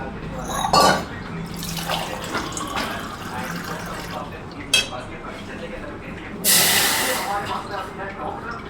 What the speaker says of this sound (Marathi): ते गरम पाणी आपण याच्यात टाकून देणार आहोत.